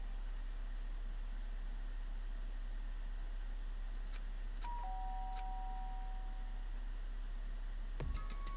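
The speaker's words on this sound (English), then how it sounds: "did I hear the doorbell?" A doorbell in the video game Danganronpa chimes faintly a couple of times over a steady hiss of background noise, with a final brief electronic tone near the end.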